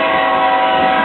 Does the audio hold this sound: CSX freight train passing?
yes